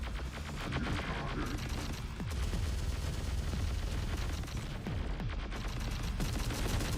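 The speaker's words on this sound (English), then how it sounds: "Fire that recoilless rifle at it." Recoilless rifle fire in the Terminator Dark Fate Defiance video game, with heavy booming shots repeating at irregular intervals over a dense, continuous background of battlefield gunfire and explosions, with no talking.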